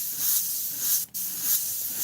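An Iwata airbrush spraying Createx paint produces a close, steady hiss that breaks off briefly midway and then resumes, with no talking.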